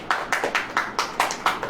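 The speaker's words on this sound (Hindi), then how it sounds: "ताली बजाओ" A congregation claps hands in a steady rhythm of about eight sharp claps at a church service, fairly close and moderately loud, with no talking.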